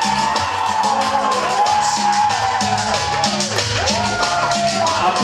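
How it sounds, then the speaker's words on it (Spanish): Dense crowd noise fills a cumbia and guaracha dance contest in Brooklyn, New York, as the audience applauds and cheers a dancing couple; whoops and shouts rise over steady music, loud and continuous throughout. "Aplausos para la pareja."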